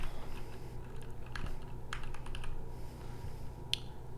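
Fingers type a search on a computer keyboard in a music production session, a quick, close run of light plastic key clicks, irregular and uneven, with a single sharper tap near the end.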